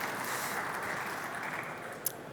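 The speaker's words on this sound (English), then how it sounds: "round of applause for Hannah" Conference audience at a Berlin tech event applauding a speaker, a steady, fairly distant wash of clapping lasting a couple of seconds with no voices over it.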